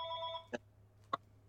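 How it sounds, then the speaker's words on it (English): A home telephone rings faintly with a short electronic tone burst, followed by two soft clicks. "I'm sorry, my phone rang here."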